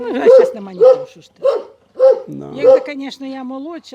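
A dog in a Ukrainian village barks repeatedly in short, close, evenly spaced bursts, with people talking nearby.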